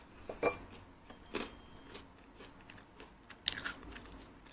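Close crunchy bites and chewing of a crisp homemade peanut butter cookie: three or four sharp crackling crunches spaced apart, quiet between them, no talking.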